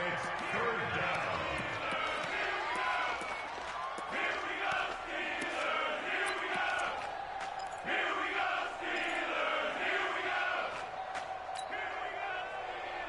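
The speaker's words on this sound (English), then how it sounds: "the crowd getting into it as we come up on a big 3rd down" Stadium crowd in a PS4 American football game, Oakland versus Pittsburgh, roaring and swelling in waves as a big third down approaches, with sharp thuds and chanting-like bursts.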